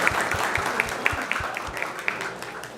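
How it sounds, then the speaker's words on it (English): A congregation at a Krishna Katha talk gives steady applause, a continuous wash of clapping with a few louder claps falling into a loose rhythm. "So let's give them a big round of applause."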